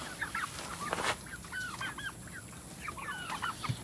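Isa Brown chickens cluck in a series of short, moderately loud calls that rise and fall in quick bursts over a steady background hiss, with no one talking.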